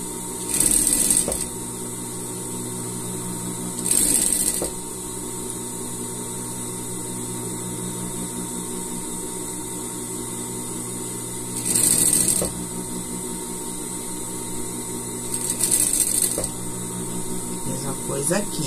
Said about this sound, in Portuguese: Agora é só eu seguir costurando.